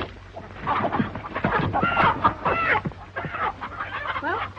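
Chickens cluck and squawk in a busy, overlapping cluster, fairly close, over a low hum in an old 1934 film soundtrack.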